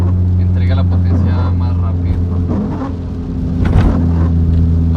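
A modified 2008 Renault Clio accelerates hard, its engine holding a loud, close droning rumble with strong steady tones that swell toward the end, and a voice speaks over it.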